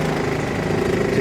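Forklift propane engine running steadily as its tank empties, a mid-pitched idling drone with a faint rhythmic knock, close and constant throughout.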